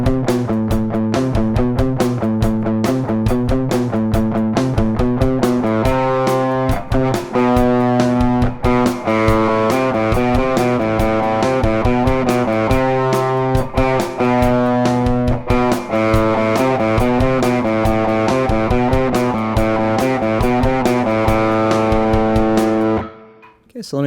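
An electric guitar plays the palm-muted practice piece "Heavy" with short, damped, chugging notes in a steady, even rhythm. The part runs close and loud for the whole passage, then stops abruptly at the end.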